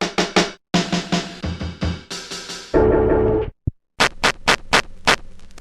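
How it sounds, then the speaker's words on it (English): Drum samples triggered on an Akai MPC sampler: punchy kicks and snares in a quick pattern, a brief noisy crash-like burst in the middle, then sharp hits resuming, loud and close with no talking. "So I got some drums loaded up that sound like this."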